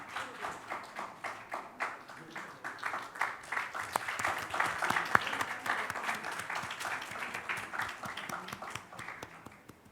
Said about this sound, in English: Huge round of applause for Dr. Shashi Tharoor